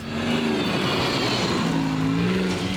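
A car drives fast at a dirt mound on a private racing compound, its engine loud and close in a continuous rough roar that rises and dips slightly over a few seconds.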